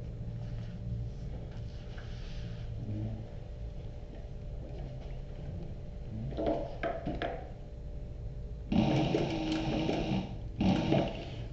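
A sewing machine back-stitches a slim belt bag. Low motor hum is followed by short bursts of stitching, then two louder, denser runs of rapid needle clatter near the end.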